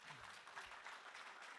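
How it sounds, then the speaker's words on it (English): Audience applause at a conference plenary session on the water and sanitation sector, a steady soft wash of clapping from a crowd, faint and distant throughout. "let's clap for that."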